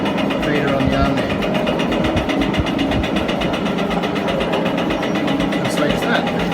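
A Zocca 500 metal shaper runs under automatic down feed, its drive producing a steady mechanical hum with a rhythmic, pulsing clatter close by, continuous throughout.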